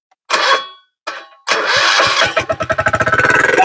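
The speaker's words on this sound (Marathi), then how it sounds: "आपलं जे मशीन आहे ते स्टार्ट झालेलं आहे आपलं इंजिन" An agricultural back rotor machine's engine, used in a sugarcane field with four-and-a-half-foot furrows, is cranked twice in short bursts, then catches and runs, settling into a loud, close, steady rhythmic chug.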